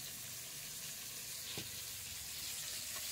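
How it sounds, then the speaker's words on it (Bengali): Bhola fish frying lightly in oil, a steady soft hiss of sizzling fat throughout with a faint clink midway, moderately quiet and close, no talking. "ভোলা মাছ খুব কড়া করে ভাজবো না, একটু হালকা করে ভেজে নেব"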